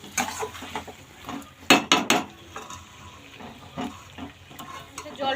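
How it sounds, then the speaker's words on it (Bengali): Meat curry with small fried potatoes being stirred in a pot, a spoon scraping and clinking against the metal in short irregular strokes over a faint sizzle, close by. "আমি এখানে রান্না বসিয়ে দিয়েছি, আর একটু করে নাড়ছি"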